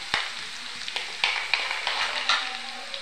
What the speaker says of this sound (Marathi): कढईमध्ये तेल घेतलं, त्याच्यामध्ये मोहरी, लहसून टाकून व्यवस्थित भाजून घ्यायचा।